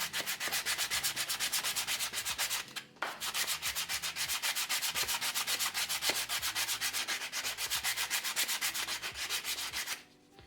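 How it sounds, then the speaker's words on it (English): A 120 grit sanding block is rubbed by hand over scroll-sawn wooden shapes in quick, even back-and-forth strokes, close and steady, with a brief pause early on and a stop near the end. "Just grab a sanding block with 120 grit sandpaper. Just give it a quick go over."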